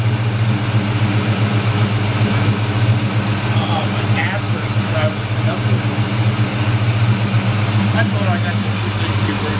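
The engine of a 1967 Mercury Comet Caliente convertible idles with a steady low, close rumble, while people talk nearby.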